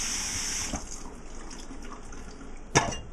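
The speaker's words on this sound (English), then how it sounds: "We're going to rinse it really good with warm water." Warm water runs from a kitchen tap over sushi rice being rinsed, a faint, steady splashing stream broken by a soft knock and a brief louder splash near the end.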